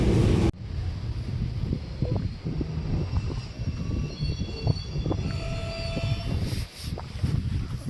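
A train rolls into Tekal railway station with a steady low rumble and clatter of wagons, whistling high tones from wheels and brakes, heard from on board, continuous and moderately loud with no speech.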